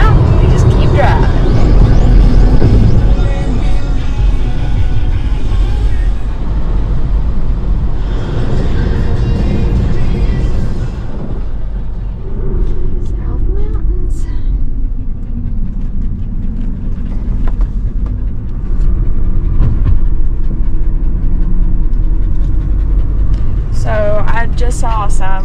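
A car driving along a road through the South Mountains gives a continuous low rumble of engine and tires, steady and close. Someone speaks over it for most of the stretch.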